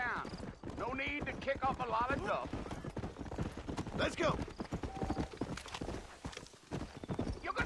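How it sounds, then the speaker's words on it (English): Horse hooves clip-clop in a steady trotting rhythm while riding in the Red Dead Redemption video game, with game dialogue and other voices talking over the hoofbeats throughout. "Let's ride this beautiful horse."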